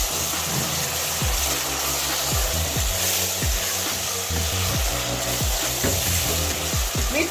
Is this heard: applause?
no